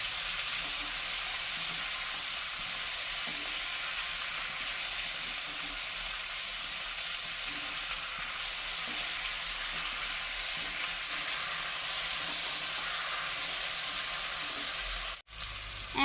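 Green chillies with salt and turmeric powder frying in a wok while being stirred, a continuous loud sizzle and hiss with faint scraping, cut briefly near the end.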